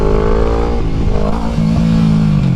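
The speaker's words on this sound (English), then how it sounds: "I need to pop a wheelie first." A motorcycle engine revs hard as the rider pops a wheelie, a loud, close, rising roar with rattling clatter and a shifting pitch.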